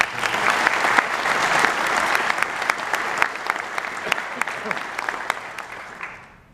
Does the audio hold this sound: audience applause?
yes